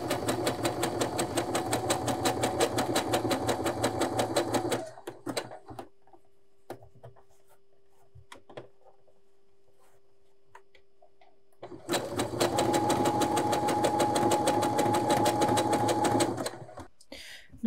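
Sewing machine stitching picot elastic onto a garment, running in two long steady bursts of rapid mechanical whirring with a quiet pause between them, loud and close.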